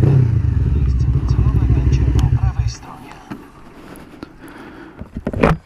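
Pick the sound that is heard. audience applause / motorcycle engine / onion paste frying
motorcycle engine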